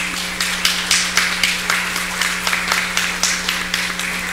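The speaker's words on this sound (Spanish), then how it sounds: "Aplauso." At a discussion event on conserving audiovisual heritage, clapping comes as a close, regular run of distinct claps over a steady electrical hum, with no talk.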